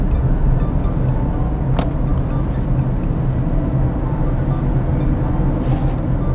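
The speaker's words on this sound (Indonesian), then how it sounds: "Dan ini tadi kita lihat ada beberapa kendaraan yang lewat dari samping, cukup lumayan terdengar" Steady low road rumble and engine drone inside a Wuling Binguo car, with passing vehicles beside it adding a soft swelling whoosh that stands out briefly near the start and end, continuous and moderately loud throughout.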